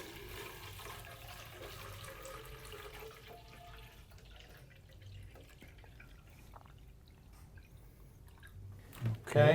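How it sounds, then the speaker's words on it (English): Water running into a pitcher, a soft steady trickling and splashing that fades lower midway and then ends with a brief louder knock. "So we have a pitcher here. We're going to fill it with some water."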